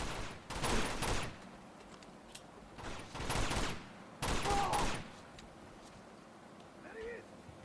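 Gunfire in Uncharted 2: Among Thieves, heard as three loud bursts of rapid broadband shooting, each lasting under a second, spaced apart with quieter game ambience and a faint tonal cue near the end.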